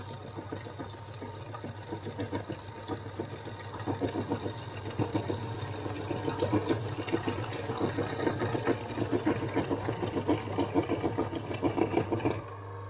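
A small electric motor churns double cream into butter, humming steadily with a rapid rhythmic chatter from the churning mechanism, close and continuous without a break.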